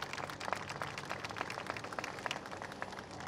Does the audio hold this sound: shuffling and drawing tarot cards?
no